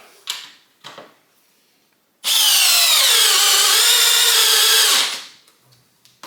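A Metabo HPT compact drill on a 2 amp hour battery, set to high, drives a 4.5 inch wood screw, a loud steady whine for about three seconds after a few short taps, then winding down.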